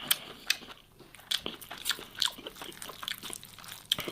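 Crispy skin on Iraqi quzi lamb is bitten and chewed up close, producing sharp crunchy bites followed by repeated crackling chews, with no talking over it.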